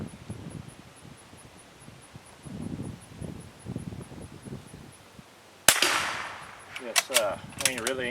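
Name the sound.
squirrel rifle shot during scope sight-in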